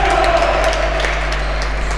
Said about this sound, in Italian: partono gli applausi, ma ancora presto